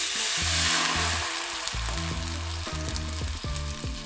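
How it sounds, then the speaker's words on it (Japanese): Golden dashi broth is poured into a hot frying pan of shrimp coconut curry, setting off a loud, steady sizzle and hiss with bubbling crackles close up, and no voices. "この出汁を先ほどのカレーのフライパンに流し入れます。"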